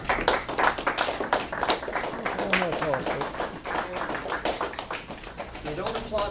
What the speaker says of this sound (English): So don't applaud me, we're applauding us